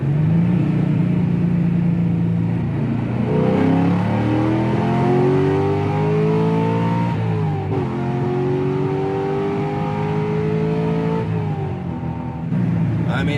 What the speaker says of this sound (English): Let's slow down and do a little pull here on the highway.